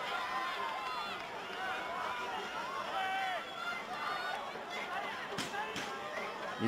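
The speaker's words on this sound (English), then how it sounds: "You can hear the passion radiating, permeating throughout the crowd." A crowd at an NPL men's football semi-final, Lions FC against Olympic FC, roars and chatters in a dense, continuous wash of voices, with a few sharper shouts near the end.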